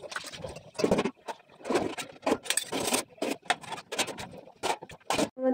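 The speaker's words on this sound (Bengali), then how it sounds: "এখানে কিছু বাসন আছে, এগুলো ধুয়ে ফেলি।" Dishes are washed by hand, with rhythmic scrubbing, rubbing and light clattering in short bursts close by, and no talking.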